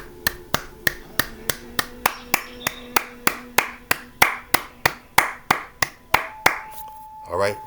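Slow, evenly spaced hand claps ring out one after another, about three per second, sharp and close, ending with a brief shuffle.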